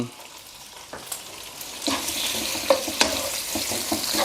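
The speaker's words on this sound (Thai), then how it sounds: "ลวนของทะเลในกระทะก่อนนะครับ" Loud, continuous sizzling and frying with scraping and clanking of a utensil against a wok as shrimp, mussels and squid are stirred, close up.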